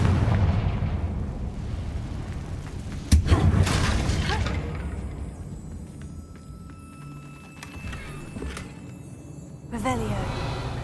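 A Confringo spell explodes in the Hogwarts Legacy video game: a sharp, loud blast near the three-second mark with a rumbling tail, and a second burst near the end, over dense game sound.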